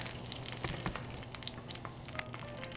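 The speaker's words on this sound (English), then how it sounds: "So here we have the butter melting, and it is almost ready for me to pour in some batter." Butter melting in an aebleskiver pan, giving a faint continuous sizzle with small crackles and pops close by.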